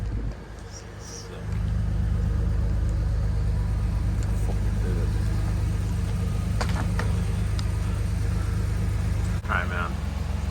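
An S54-swapped BMW E46 wagon starts up and settles into a steady, close idle rumble, with people talking faintly over the engine.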